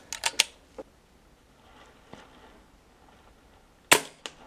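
Brocock Sniper HR air rifle firing .25 caliber pellets, heard as a few sharp, snappy cracks: a quick cluster at the start, a lone shot shortly after, then another sharp pair near the end, with quiet gaps between.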